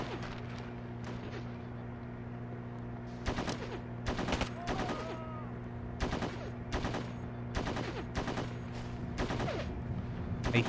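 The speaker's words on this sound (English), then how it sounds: "I hear shots." Gunfire in the video game Ghost Recon 2, sharp bursts of shots cracking out at irregular intervals over a constant droning background hum, moderately loud with no talk.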